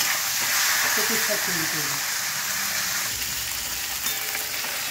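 Hilsa fish heads fry in hot oil, a continuous sizzling hiss while someone speaks over it.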